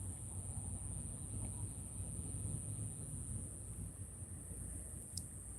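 Cicadas at sunset make a steady, high-pitched insect drone that holds unbroken throughout, faint and even over a low rumble of outdoor background noise.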